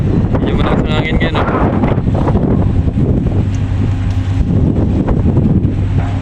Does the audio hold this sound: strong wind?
yes